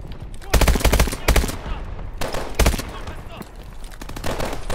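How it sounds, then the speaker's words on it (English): Close, loud gunfire from Call of Duty Advanced Warfare comes in several short, punchy automatic bursts separated by brief pauses, with game ambience between volleys. "some of the guns are really cool and beefy and awesome, and then some sound like fucking airsoft guns or toy guns"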